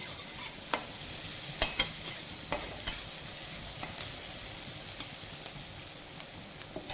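Onions fry in a pan for Assamese-style pav bhaji, a low steady sizzle broken by scattered light clicks and taps of stirring.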